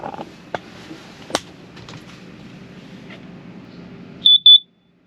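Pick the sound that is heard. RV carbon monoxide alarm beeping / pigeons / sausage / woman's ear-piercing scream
RV carbon monoxide alarm beeping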